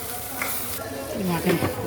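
A thick onion and tomato paste bubbles and sizzles in a pan nearby, soft hissing with occasional stirring scrapes and small pops.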